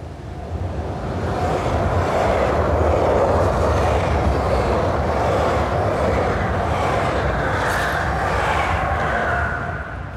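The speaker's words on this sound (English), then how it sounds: "Oh, there's a train coming." A train rolls past near a bridge in Utrecht, a loud, sustained rumble and rush of rail noise that swells and holds steady for about ten seconds, heard up close.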